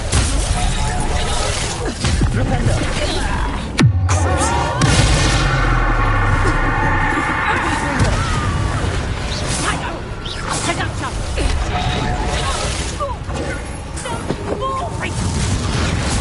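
Spell blasts and explosions in Hogwarts Legacy on PS5, loud bursts, whooshes and crashing impacts in rapid succession, with character voices shouting over the combat.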